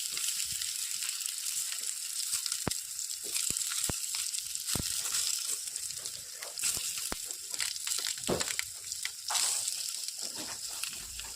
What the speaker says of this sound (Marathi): हलकेसे आपल्याला दोन्ही बाजूने शालो फ्राय करून घ्यायचे आहे.